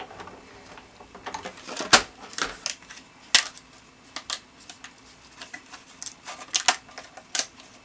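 A Todo die-cutting machine cuts paper through a die at a 9.5 setting, giving a run of sharp, irregular clicks and ticks with a few louder snaps, fairly close and with no talk over it.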